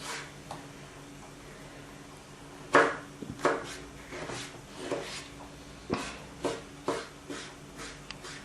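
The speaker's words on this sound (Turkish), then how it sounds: "kabuklarını soyduğumuz domatesleri doğruyoruz" A knife chops peeled tomatoes on a cutting board in irregular strokes, some sharp and distinct knocks spaced a second or so apart, over faint background hum.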